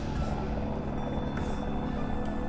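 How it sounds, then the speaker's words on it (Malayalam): A helicopter on approach to a mountain helipad along the trail from Namche Bazaar to Tengboche gives off a steady, continuous rotor and engine drone, moderately loud and unbroken with no voices. "അവിടെ ഒരു ഹെലികോപ്റ്റർ ഇറങ്ങുന്നുണ്ടോ?"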